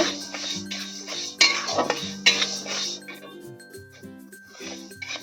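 Mung dal stirred as it lightly roasts in a pan, with sharp clinks and scrapes of a utensil against the metal over steady background music.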